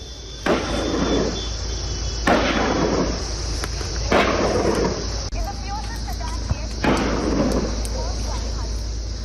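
Gunfire during a search operation for militants in Anantnag, Jammu and Kashmir: four sharp, loud cracks spaced a couple of seconds apart ring out over a constant background rumble, with speech present.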